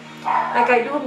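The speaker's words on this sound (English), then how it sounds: "that's my dog in the background" A dog barks in the background of a room while someone talks steadily through a makeup review, the bark showing as faint, brief yaps beneath her voice.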